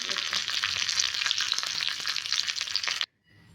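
Curry leaves dropped into hot oil, a loud, dense crackling sizzle with rapid popping that runs steadily for about three seconds and then cuts off abruptly to near silence.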